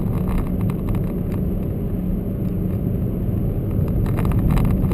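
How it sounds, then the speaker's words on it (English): A Ford KA+ 2018 car engine hums steadily while driving at around 60, a continuous low rumble and whir with road noise that holds an even level throughout. "a throaty engine, really very nice actually"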